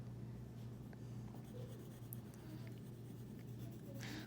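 Pencil strokes on paper while sketching a little bear, faint and intermittent scratching against a constant low background hum.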